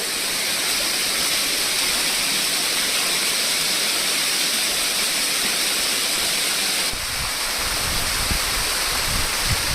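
A little-visited waterfall roars as a loud, steady rush of falling water, broadband and continuous, with a brief shift in tone near the end and no voices.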